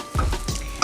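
French toast sizzles in a frying pan while being squished down to crisp, a short burst of crackling with a few soft thumps and scrapes.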